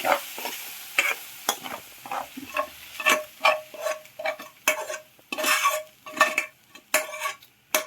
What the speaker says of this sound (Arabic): هتتقلب كده كلها على بعضها وهي موجودة على البوتاجاز